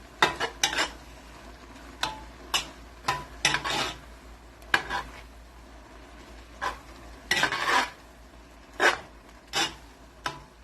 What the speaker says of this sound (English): Now mix up everything together.